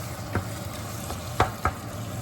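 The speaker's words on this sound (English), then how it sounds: "It's just basically melting out the cheese." Meaty cheesy taco dip stirred in a pan as the cheese melts, giving a soft steady sizzle with a few clear scraping clicks of the spoon, close up and with no one talking.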